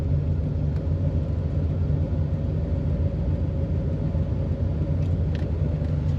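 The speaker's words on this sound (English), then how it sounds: "Now it's blowing. So the AC does work. It's blowing nice and cool." Steady broadband whoosh of the air conditioning blower in a 1986 Chevy C4 Corvette with the engine idling, a constant low rumble and airy hiss held at an even level throughout, with no talking.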